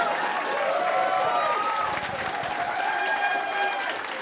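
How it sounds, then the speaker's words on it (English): Comedy show audience applauding in a Calgary venue, a moderate wash of clapping with voices and whoops mixed in throughout. "You're supposed to clap."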